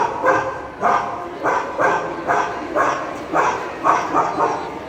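A human voice imitates a dog barking, giving about eight evenly spaced, rough bark-like bursts in a steady rhythm, close and fairly loud with no other sound around them.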